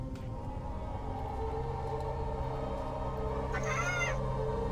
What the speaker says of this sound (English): Mechanical chicken.